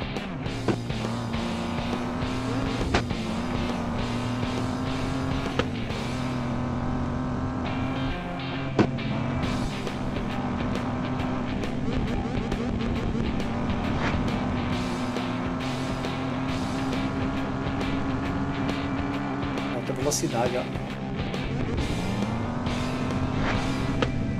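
Race cars driving in a video game, a loud steady engine drone with rising and falling revs, occasional tire squeals and bumps throughout, no talk.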